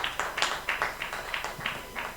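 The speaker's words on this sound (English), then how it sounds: "Let's give him a round of applause." Conference audience applauding in a hall, a brief burst of clapping with a loose rhythmic pulse, fairly close and clear, with no talking over it.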